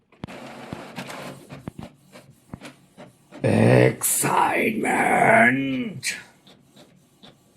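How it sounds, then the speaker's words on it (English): A printer running a cosplay pattern printout gives faint, rhythmic ticking and clicking, and then a loud, drawn-out voice cuts in over it with a groan-like yell. "Now let's have some printing action."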